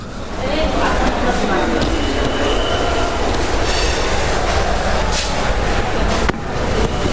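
An AC local train running from Ranaghat to Sealdah rumbles loudly and continuously from inside the carriage, with rattling, faint wheel squeals and a sharp clunk near the end.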